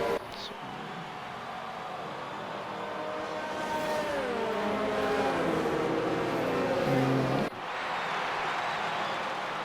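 Safety car lapping the track in a racing game, its engine rising steadily from a quiet hum to a loud, pitch-climbing drone before cutting off abruptly, with people talking over it.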